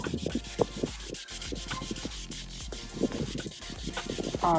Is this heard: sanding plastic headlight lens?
yes